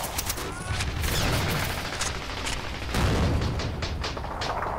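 Artillery and gunfire in the Men of War World War II strategy game at Kasserine Pass, with dense crackling rifle and machine-gun bursts and heavy booms rolling in repeatedly, close and loud, with no talk.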